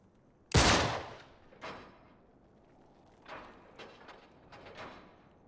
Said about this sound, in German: Schieße das Schloss.